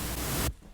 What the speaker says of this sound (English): and that's just white noise. It's just white noise.